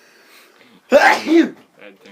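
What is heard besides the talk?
sneeze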